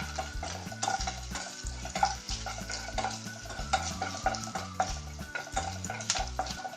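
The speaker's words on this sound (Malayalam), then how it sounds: "ചെറുതായിട്ടൊന്ന് വഴറ്റട്ടെ." Green chillies are lightly sautéed in a pan for carrot yogurt curry, with quick rhythmic ladle clicks and a soft sizzle over background music.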